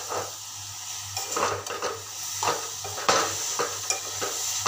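Broccoli bhaji being stir-fried in a pan, a spoon scraping and stirring in repeated strokes over a steady background sizzle, close and moderately loud.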